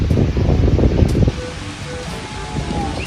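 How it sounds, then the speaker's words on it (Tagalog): Strong outdoor wind gusting hard against the microphone, a heavy low roar for about a second that eases into a softer rustling rush, with faint background tones and no clear talk. "Malakas po ngayon ng hangin."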